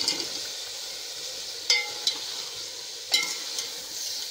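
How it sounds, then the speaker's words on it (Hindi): Cut potatoes and cauliflower being added to spiced oil in a pan for aloo gobi, giving a steady soft sizzle with a few sharp clacks and splashes as pieces drop in, close and fairly quiet. "अब हम इसके अंदर आलू और गोभी कटी हुई डालते हैं।"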